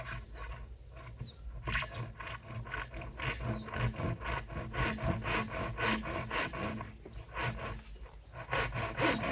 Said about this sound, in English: this is just a normal universal cut timber saw, but it goes through this plastic quite easily